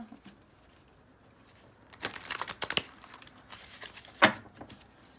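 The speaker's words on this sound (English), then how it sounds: "Let me just shuffle up a bit here." Tarot cards being shuffled, a few quick papery riffles and flicks after a quiet start, close and soft with no talking.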